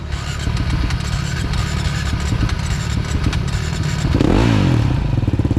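An off-road enduro motorcycle engine catches and starts, sputtering and clattering close by, then rises into a louder revving roar near the end, with no speech over it.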